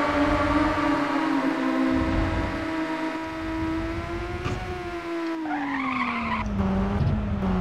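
Engine whine and tire skidding as a car drifts through a turn in the racing video game Ridge Racer Type 4, a steady loud tone with squealing slides and a brief landing thump, no talk.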